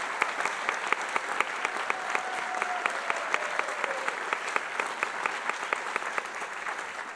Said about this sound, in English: Let's have another round of applause for our civil and environmental engineering students.